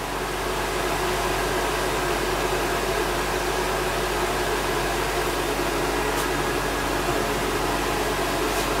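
A dryer blows a steady, loud, broadband rush of air over bird feathers being dried for taxidermy, continuous and unbroken throughout with no talking.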